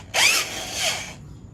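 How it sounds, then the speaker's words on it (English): A small drill bit whirs into a plastic valve cover in one short, close burst of about a second, its pitch rising and falling as it cuts before stopping. "I'm gonna go with a smaller drill and step it up"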